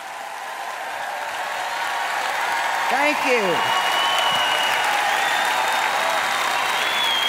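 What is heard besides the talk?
audience applause welcoming a speaker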